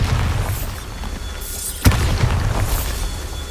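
A single sharp blast from the Bombarda spell in the game Hogwarts Legacy, a loud explosive boom near the middle over low ambient rumble, with no voice heard.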